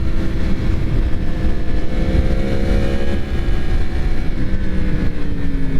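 A 2022 Yamaha MT10 SP motorcycle roars steadily with engine and intake noise while being ridden. The loud drone runs continuously, its pitch shifting slightly, with wind rush underneath.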